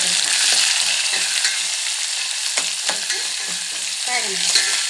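Onions sizzle steadily in hot tempering oil for a Telugu ridge gourd and moong dal curry, a close, continuous crackling hiss broken by occasional spoon scrapes and stirring clinks, with no voices.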